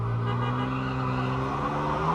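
Car engine revving loudly and steadily at close range amid smoke during an El Grito street celebration in Chicago, a sustained roar with shifting pitch and no talk.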